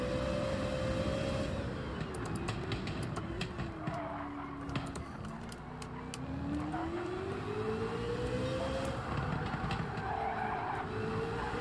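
A race car engine howls in fourth gear in Gran Turismo 7, a loud, sustained drone whose pitch sags and climbs as the revs change, with tire noise underneath and brief clicks on top.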